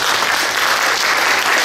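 An audience at a cultural lecture on Taiwanese culture breaks into loud, sustained applause, dense clapping from a full crowd that stays steady throughout.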